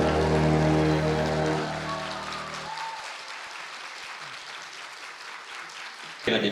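Audience applause at a scholarship award ceremony in the large conference hall of the National Assembly Members' Office Building, clapping under loud music at first, then continuing alone and fading, with a brief loud burst at the end.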